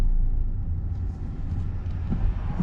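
A car on a driving-test route in city traffic slows toward a red light; a steady, close low engine and road rumble runs throughout with no talking.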